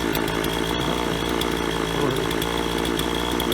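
Husqvarna 137/142 chainsaw engine running steadily while warming up, a loud, continuous two-stroke drone close to the microphone with no talk.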